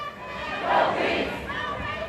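A protest rally crowd in Akron, Ohio gives off a broad, continuous murmur of many voices with a swell of cheering or shouting, heard from a moderate distance.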